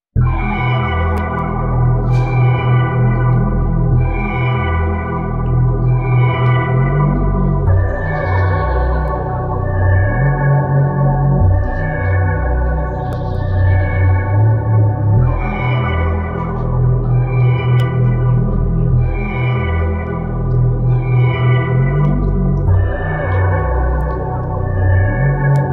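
A dark, washy music sample processed with the S-Rand Dark Wide Box preset plays for about twenty-five seconds, its repeating loud chords smeared by heavy chorus, echo and reverb in a steady, looping rhythm.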